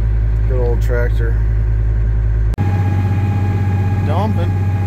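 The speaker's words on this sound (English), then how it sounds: "Good old tractor." An old farm tractor engine idles during fall harvest, a steady low rumble throughout, with a speaking voice over the first half and briefly near the end.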